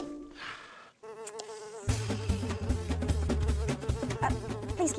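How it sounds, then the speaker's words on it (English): A cartoon fly buzzes steadily and loudly alongside a lively musical score, its whine continuing throughout with a brief pause near the start. "buzzy flies drive me crazy"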